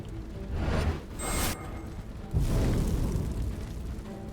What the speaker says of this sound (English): Yeah, things are exploding.